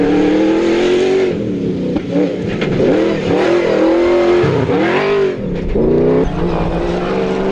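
A Nissan Navara off-road race car in a desert rally heat revs hard and loud close by, its engine pitch rising and falling in repeated surges as it accelerates, continuous and alone.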